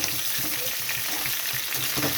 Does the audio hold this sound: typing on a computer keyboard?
no